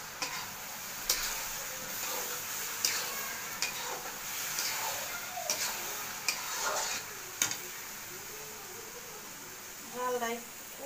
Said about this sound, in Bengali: এখন খালি নাড়তে থাকুন নাড়তে নাড়তে এটা আচারটা নরম হয়ে আসবে, সিদ্ধ হয়ে।